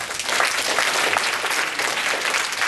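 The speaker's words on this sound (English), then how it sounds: "Give yourselves a round of applause" Students at a Fall 2010 Master's Economics orientation applaud themselves in a steady, dense round of clapping that fills the room at an even level throughout.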